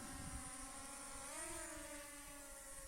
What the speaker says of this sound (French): Je remets gaz à fond.